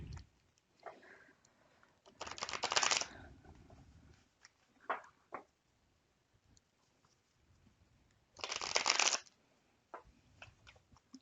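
Tarot cards being shuffled in two brisk bursts of riffling, close and crisp, separated by quiet stretches with faint handling taps and no talking.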